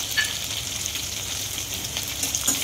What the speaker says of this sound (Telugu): ఇప్పుడు ఎండుమిర్చి కరివేపాకు వేసేసుకుంటున్నాను, పచ్చిమిర్చి ఎండుమిర్చి వేసేసుకుంటున్నాను